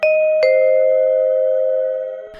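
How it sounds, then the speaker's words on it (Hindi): A cartoon flat's doorbell rings with two bright chime strikes, the second following about half a second after the first, each ringing out and sustaining before fading, with no talk. "तभी उनके फ्लैट की घंटी बजती है।"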